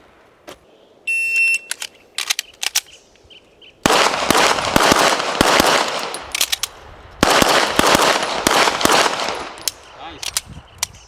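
Gunfire from a Nighthawk TRS Commander pistol at a shooting range, sharp loud reports in irregular bursts, some close together, with metallic clinks and a speaking voice between shots.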